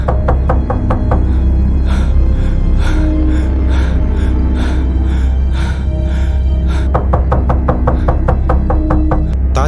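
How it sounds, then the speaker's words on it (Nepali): Repeated knocking, like a fist rapping on a door, comes in several rapid bursts of sharp, loud knocks separated by brief pauses, over a steady low background hum with no talk. "ढोकामा ढ्याक ढ्याक आवाज आयो"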